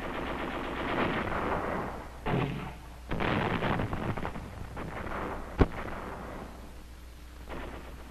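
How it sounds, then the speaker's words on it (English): Battle sounds from the 1944 fight on Saipan: bursts of machine-gun and rifle fire with heavier artillery and mortar thumps. The firing is loud and dense, comes in several waves, and includes one sharp isolated crack. "enemy resistance, supported by artillery and mortar fire,"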